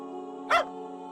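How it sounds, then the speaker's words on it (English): A single short, loud dog bark used as a sound effect in Barkley Shut Up and Jam Gaiden, popping out over a steady sustained musical drone. "anytime somebody says Barkley, it is going to make the barking sound."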